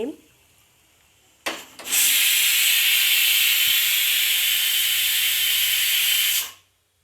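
Rice-washing water sprayed from a spray bottle, one long close hissing burst lasting about four and a half seconds, preceded by a short squeeze sound and ending abruptly.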